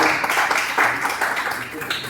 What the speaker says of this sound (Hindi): हम ताली बजा करके परमात्मा का नाम करेंगे